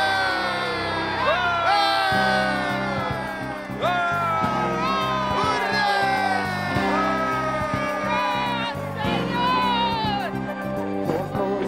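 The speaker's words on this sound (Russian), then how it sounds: "Кричите! Кричите так, чтобы было слышно на небесах!" Loud crowd shouting and cheering in an animated children's Bible film about Joshua and the battle of Jericho, a dense sustained roar of many voices with whoops over a musical score.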